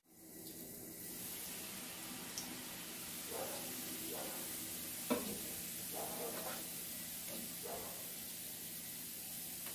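Mexican buñuelos frying in hot oil, a steady broadband sizzle with scattered bubbling bursts and occasional clinks of a utensil, close and continuous with no voices.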